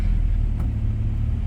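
A Honda Prelude with a V6, in need of a new clutch, is driven slowly. Its steady low engine rumble continues without a break and carries no speech.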